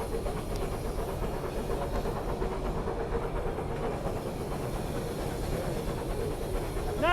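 A working steam locomotive, Taw Valley, hauls the Orient Express with a steady, dense chuffing and hissing that stays loud and even throughout, with no talk over it.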